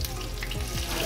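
Chicken pieces hit a hot pan for grilled chicken, giving a steady, close sizzle and crackle of frying that runs evenly throughout, with no talking.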